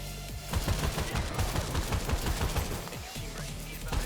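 Rapid gunfire from the video game Crime Boss Rockay City, dense bursts of shots crackling continuously for several seconds with a steady loud roar and no talk over it.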